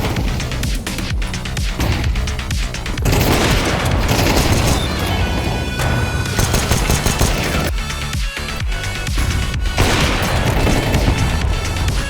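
Counter-Strike gunfire comes in dense, rapid bursts of shots and booms, loud and nearly continuous over a backing music track, with no talking.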